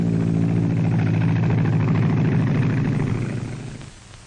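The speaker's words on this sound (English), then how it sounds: "Now the pilot takes off on his trip north." A 1940s propeller airplane engine roars steadily at full power during takeoff at an airport, a loud continuous low drone that holds for several seconds before fading as the plane pulls away.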